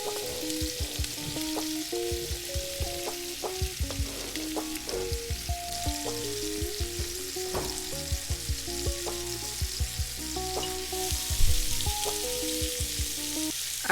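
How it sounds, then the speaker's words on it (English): Sausages, peppers and onions fry in a greased pot with a steady close sizzle, broken by repeated hollow knocks and scrapes of a utensil stirring against the pot and soft tonal clinks, no talking. "I put grease in it so I can add the sausages and the pepper and onions in it."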